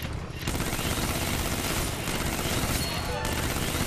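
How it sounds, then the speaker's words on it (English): Dense, continuous rapid gunfire from the Metal Gear Online video game fills the whole clip, loud and sustained after a brief quieter opening. "Wow, shooting through the bags."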